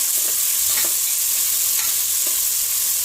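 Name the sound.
chopped onions being stirred and sautéed in a pan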